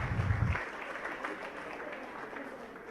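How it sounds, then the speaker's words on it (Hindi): A congregation at a Jain religious discourse by a monk claps softly in approval, a faint, even patter of many hands that carries on after a brief voice at the start. "अपने गुरुवर के चरणों में तालियां बजाकर धीरे से अनुमोदना कर दें"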